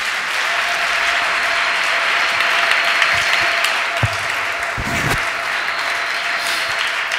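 Church congregation applauding to acclaim the Lord after a sermon, steady sustained clapping from a large crowd filling the room, fairly loud and even throughout with a few sharper claps standing out.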